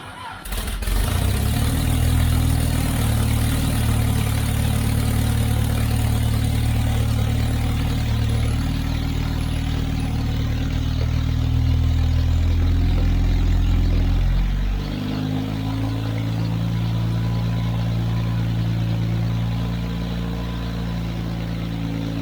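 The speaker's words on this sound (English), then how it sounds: "When I start it up, I don't have water in the engine, so we're not going to run it long, just enough to do a test." An Austin Healey engine, run briefly on a bench without cooling water for an overdrive test, starts with a loud catch and settles into a steady close-up drone. Its tone and level drop partway through.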